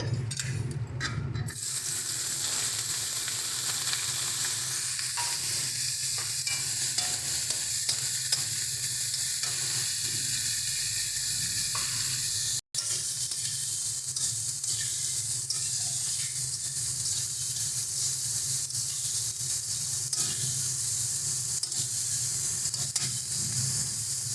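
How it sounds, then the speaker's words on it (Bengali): Eggplant pieces frying in oil, a loud continuous hissing sizzle that runs throughout with an abrupt burst at the start and a brief cut midway, occasional stirring, no voices. "তো চলো, এবারে আমরা বেগুনগুলোকে ভেজে নিচ্ছি।"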